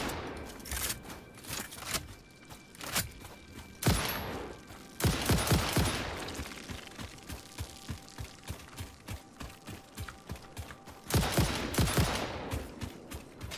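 Gunfire in the video game Satisfactory, with rapid bursts of shots and sustained fusillades broken by short pauses, loud and close, with no talk over it.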